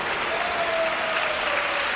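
Steady crowd applause fills an arena at a table tennis match, a dense continuous patter of many hands clapping at even loudness with no talk over it.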